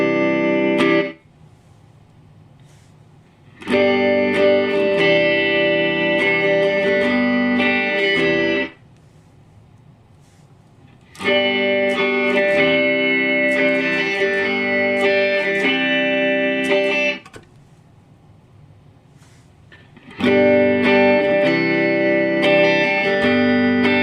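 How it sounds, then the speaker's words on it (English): Guitar played through a Digitech Digiverb reverb pedal on its room setting, three sustained chord passages separated by short pauses where the reverb tail fades, steady and fairly loud with no talking. "So you can hear that as the more reverb you put in the mix, there is a volume drop."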